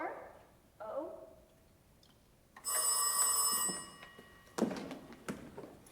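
A telephone rings with steady electronic tones on the line after a number is dialed, loud for over a second, with voices speaking before and after it on a theatre stage.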